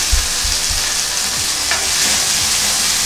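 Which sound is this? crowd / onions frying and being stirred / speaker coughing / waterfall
onions frying and being stirred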